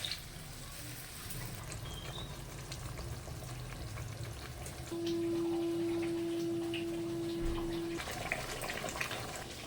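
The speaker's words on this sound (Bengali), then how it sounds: "টমেটো মশলাটা আমার কষে গেছে দেখুন তেল ছেড়ে গেছে" Tomato spice paste frying in oil for a Bengali fish curry gives a steady close sizzle and crackle, with a sustained tonal hum joining for a few seconds midway.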